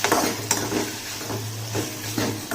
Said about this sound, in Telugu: తర్వాత టమాటా ముక్కలు వేసుకొని బాగా వేపుకోవాలి.